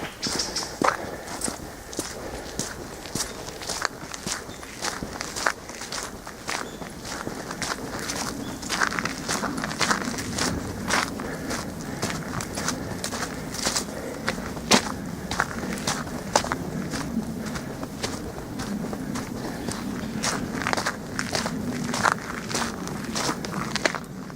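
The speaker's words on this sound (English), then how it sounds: "Nothing, just my footsteps." Steady footsteps crunch along a hiking trail through bush at an even walking pace, close and clear, continuing throughout with no one speaking.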